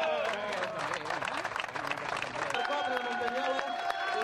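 A crowd at a Catalan trial 4x4 championship event applauds a winner, with clapping under loud talk over a PA and background music.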